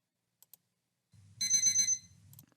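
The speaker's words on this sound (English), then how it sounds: "Let's go and take some sound or alarm sounds." A stock alarm sound effect: two faint ticks, then a soft low buzz and a bright, rapid electronic ringing burst lasting about half a second, close and clean against silence.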